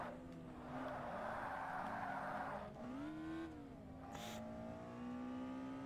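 Racing-game cars in Forza Motorsport, an Ultra Lights challenge with a Vauxhall just ahead, engines droning and shifting pitch as they rev up and down close by, with a brief rush of tire noise partway through and no talk.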